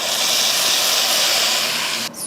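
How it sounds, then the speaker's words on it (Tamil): Hot tempering of chilli powder in oil is poured into a chickpea curry, giving a loud, steady, hissing sizzle that fills the whole moment close up before cutting off abruptly near the end. "இதை கடலைக்கறியில் எடுத்து ஊற்றிக்கலாம்"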